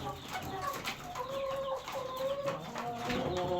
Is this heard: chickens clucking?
yes